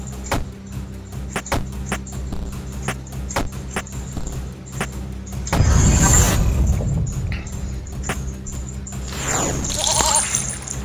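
A goat in the video game There Is No Game bleats in a few short cries among tapping clicks and a burst of rustling noise.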